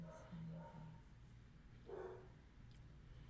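A dog at home barks a few times, faint and short, in a quiet room with low background noise.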